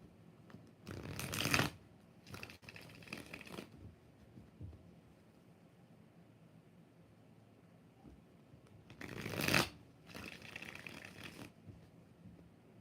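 Rider-Waite tarot cards are shuffled by hand in two separated bursts of quick riffling, each with a sharp flurry followed by softer shuffling, fairly close and otherwise quiet.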